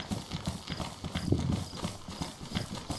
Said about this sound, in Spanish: Oímos los pasos, ¿no?